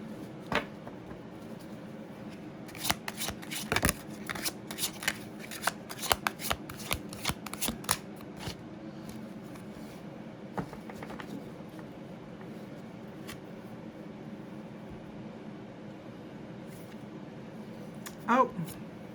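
Tarot cards shuffled and drawn for a reading, a run of quick crisp riffling slaps and flicks over a steady room hum, clustered in the first half, then quieter handling and one more brief burst near the end.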